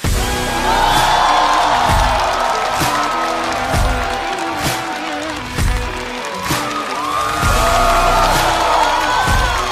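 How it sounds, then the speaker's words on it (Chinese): A loud stand-up comedy show audience applauds and cheers continuously as performers are welcomed, with scattered whoops and claps rising over the roar. "掌声欢迎"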